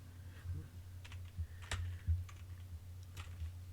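Soft, irregular clicks of a computer keyboard being typed on, quiet and close, with scattered keystrokes and a few louder taps.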